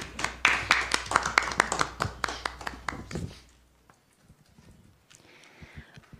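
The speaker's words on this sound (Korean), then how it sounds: "큰 박수로 모시겠습니다." A small audience at a Democratic Party candidate recruitment event claps sharply and distinctly for about three seconds, then the applause stops and a quiet room with faint shuffling follows.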